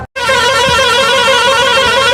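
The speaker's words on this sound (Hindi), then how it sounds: "बस का हॉर्न भी कुछ अलग तरह का बज रहा है" A bus horn on a mountain road sounds in one long, loud, sustained multi-tone blast with a warbling, musical quality, close and continuous after a brief silence.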